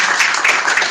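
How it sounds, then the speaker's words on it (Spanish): Church congregation applauding together, a dense, steady wash of many hands clapping at close range with no pause, filling the whole moment. "Damos un aplauso bien fuerte para ti"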